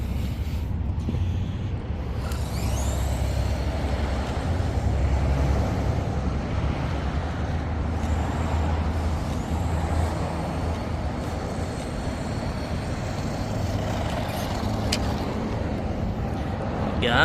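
An HPI Blackzon Slyder MT RC brush truck runs at full speed, giving a steady whirring rumble with broadband rushing noise that holds for the whole stretch, close and fairly loud, with no talk over it.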